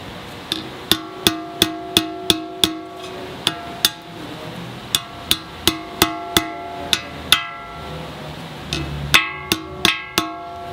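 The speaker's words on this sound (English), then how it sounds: "Take a small hammer, tap around the edge." Sharp metallic taps from a small hammer on a seal's edge during a Nissan Altima front wheel bearing replacement, struck one at a time in quick, fairly regular runs with brief pauses, close and ringing slightly.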